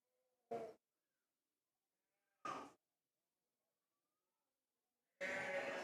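Three separate sheep bleats ring out in a quiet night-time setting, the first two short and spaced a couple of seconds apart, the last louder and more drawn out, each standing alone against near silence.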